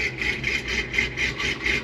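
Truck V8 with a stage 4 BTR cam, upgraded valve springs and full long-tube headers into a Y-pipe and stock exhaust, idling steadily with a choppy, lopey pulse repeating about every quarter second, close and continuous.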